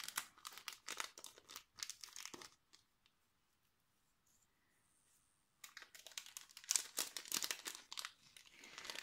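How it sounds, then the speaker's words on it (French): A plastic pouch holding rubber stamps is opened with bursts of close, crisp crinkling, then a few seconds of near silence before the rustling crinkles return, louder and busier. "Je me permets d'ouvrir"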